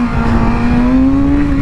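A motorcycle accelerates hard in first gear for a wheelie, its loud close engine note rising steadily in pitch throughout the short burst.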